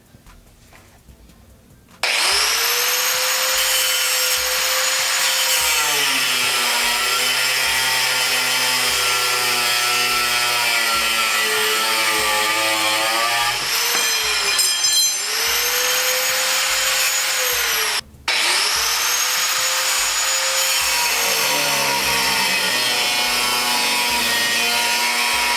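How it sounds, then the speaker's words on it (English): Angle grinder cutting off the ends of threaded steel rods for garage shelving, a loud continuous high-pitched whine and grinding screech that shifts in pitch as it bites, briefly cutting out before starting again. "I'll be taking an angle grinder and cutting them off about an inch below the last nut on the bottom."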